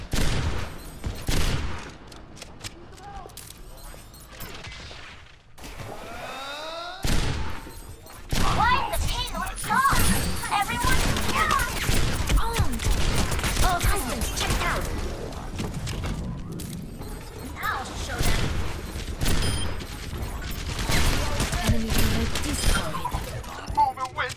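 Heavy turret gunfire erupts in a video game: dense bursts of rapid shots and booming impacts, with crashing and shattering, fill the scene almost continuously, loud and close, with a brief lull partway through.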